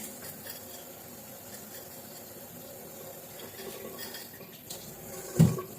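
Water runs steadily from a household tap in hot weather, a continuous hiss at close range with a short clatter near the end.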